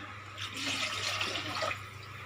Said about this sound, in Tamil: அதுக்கு நான் முதல்ல தண்ணி ஊற்றிக்கிறேன்.